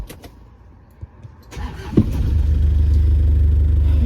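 A car engine cranks and starts during a driving lesson, then settles into a loud, steady idle rumble after a few clicks and a thump.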